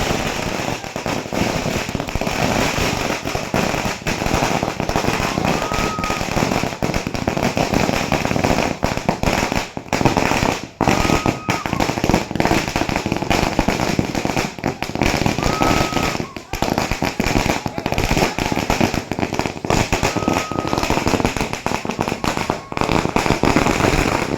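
Firecrackers burst repeatedly at an outdoor village celebration marking a chief minister's swearing-in, sharp cracks and bangs scattered through a steady crowd din with voices talking.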